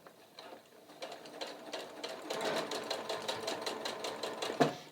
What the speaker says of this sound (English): I'm going to start stitching